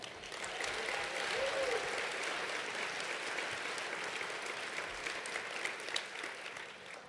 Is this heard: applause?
yes